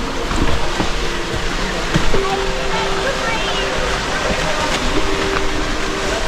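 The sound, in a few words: waterfall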